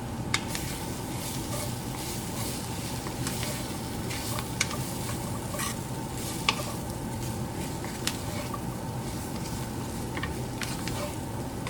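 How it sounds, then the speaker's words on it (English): A gumbo base seasoned with cayenne sautés in a pot, giving a steady low crackling sizzle with sporadic sharp pops and stirring clicks throughout, with no voice present. "I'm going to saute this for a minute or so before I put any liquid in there"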